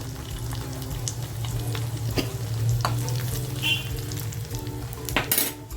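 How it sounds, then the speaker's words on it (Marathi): Grated ginger, garlic and chili sizzle in hot oil for a dhaba-style mixed dal tadka, a steady frying hiss with occasional spoon scrapes and clinks against the pan, close and continuous. "अद्रक जे किसून घेतलं होतं ना ते टाकते लसूण मिरची टाकते"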